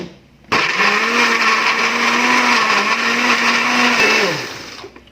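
An electric blender grinds chili sambal ulek made without garlic, kicking on abruptly into a loud, steady whirring buzz for about four seconds before cutting off, with no talking.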